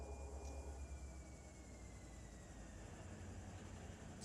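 Train cars cut loose and roll through a freight yard in the Run 8 train simulator, a low steady rumble with a faint metallic squeal drifting across it, heard alone without talk.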